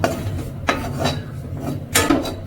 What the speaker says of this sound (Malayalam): ഇത് ഇട്ടിട്ട് വേഗം ഒന്ന് ഇളക്കി കൊടുക്കുക